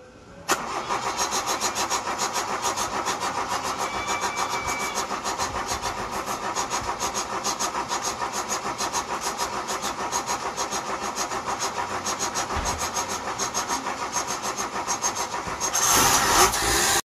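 An engine cranks to life and keeps running with a fast, steady mechanical clatter, loud and unbroken for the whole stretch, with a brief rise in noise near the end.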